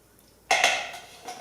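A cast iron stock pot set down on a kitchen surface: one sharp clunk with a short metallic ring that fades, followed by a lighter knock.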